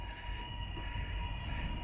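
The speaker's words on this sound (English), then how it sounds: "there goes that train to Dandenong" A suburban train to Dandenong runs through Caulfield railway station, a low steady rumble with a thin high metallic whine held above it, moderately distant and fairly quiet.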